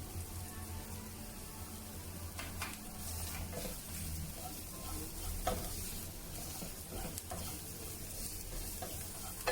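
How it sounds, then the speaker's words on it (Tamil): Chili powder, cumin powder, turmeric and salt are sautéed in a pan for bread upma, giving a quiet sizzle broken by repeated spatula scrapes and stirring strokes close by. "மிளகாய்த்தூள் வாசனை போற அளவுக்கு வதக்கிக்கலாம்."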